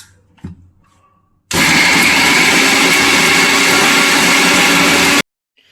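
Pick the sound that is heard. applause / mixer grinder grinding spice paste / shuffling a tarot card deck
mixer grinder grinding spice paste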